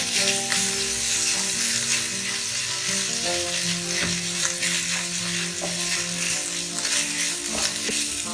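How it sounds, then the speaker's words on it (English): Grated potato and green chilies stirred in a frying pan for bread pakora filling, a steady loud sizzle of frying with scraping stir strokes throughout, no talking. "we'll add in the grated potato. Let's mix everything."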